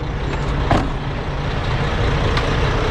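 An American-style truck on a roadside in Vietnam, its engine a steady close rumble throughout, with a brief hiss like an air-brake release partway in and another faint burst near the end.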